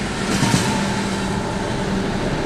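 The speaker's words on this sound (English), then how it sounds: "There goes that manifest eastbound." An eastbound manifest freight train at Tehachapi rumbles past in a steady, moderately loud wash of rail noise, with no talk over it.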